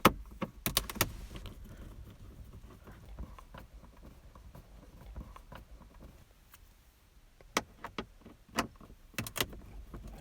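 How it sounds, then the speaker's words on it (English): Small Phillips screwdriver backing out screws from the instrument cluster of a 1998-2002 Honda Accord, heard as quiet scattered metallic clicks and taps, close by, with sharper clacks near the end. "I'm going to use a small Phillips screwdriver to remove these"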